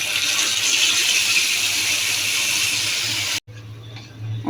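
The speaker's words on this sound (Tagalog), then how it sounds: "Lagyan po natin ng konting tubig." Water pours steadily into a cooking pan with a broad hiss while making chicken steak, cuts off briefly, then a quieter trickle resumes near the end.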